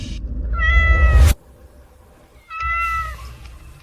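A cat gives two loud, close meows: a long rising-and-falling call, a pause of about a second, then a second, slightly shorter meow.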